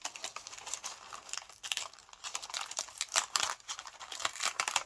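Close crinkling and rustling as fabric is handled and trimmed to size, with irregular soft snips and crackles throughout and no talking.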